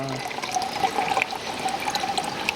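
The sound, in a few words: water poured into a glass for a jal tarang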